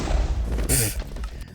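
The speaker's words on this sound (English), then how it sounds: "I forgot just how powerful bed explosions were." A bed explodes in a blocky survival video game, a single heavy boom with a bright crackling burst at its peak, mixed in with a dense rumbling game soundscape and voices.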